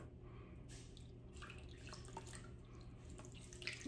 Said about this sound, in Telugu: దీన్ని కొంచెం వాటర్లో ఇట్లా స్క్వీజ్ చేసేసి